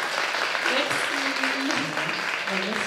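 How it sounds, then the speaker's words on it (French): An audience at a Yaoi novel conference at a French convention applauds, a dense, steady clapping close by with a voice speaking over it throughout. "je vous invite à faire un tonnerre d'applaudissements à cette charmante demoiselle"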